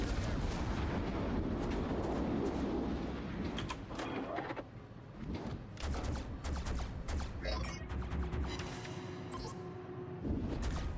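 Warship artillery fire in a World of Warships naval battle, with heavy booming salvos and repeated sharp blasts that rise over a continuous roar of battle noise, no talk.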